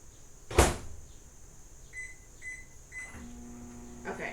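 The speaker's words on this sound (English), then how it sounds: "this is going to go into the microwave for 10 to 15 seconds" A kitchen microwave oven after a sharp clunk of the door closing, then a soft steady hum with a few short beeps as the timer is set and it starts running, fairly close and quiet.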